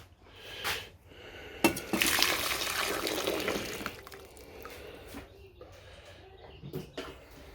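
Water is swished and sloshed around a container during a water wash in gold refining of 9 karat jewellery, with splashy bursts that rise, hold for a couple of seconds, then fade into quieter trickles.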